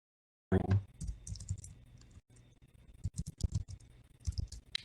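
Someone types on a computer keyboard with irregular bursts of close, crisp key clicks and taps after a short silence, with one brief pause partway through and no talk.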